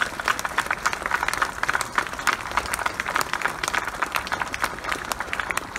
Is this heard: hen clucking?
no